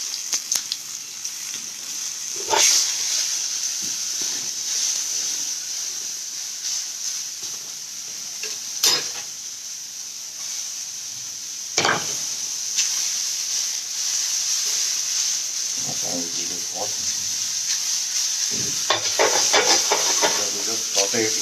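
Onions sauteing in two teaspoons of olive oil with cumin give off a steady, even sizzling hiss throughout, broken by a few sharp scrapes and clinks of stirring, louder toward the end.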